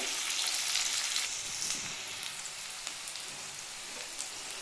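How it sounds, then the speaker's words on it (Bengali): Onions fry in hot oil in a pan for a spicy bata fish curry, giving a steady, even sizzle with fine crackles throughout, moderately faint and without talk. "এর মধ্যে পেঁয়াজটা দিয়ে দিলাম আমি ভেজে নেবো লাল করে"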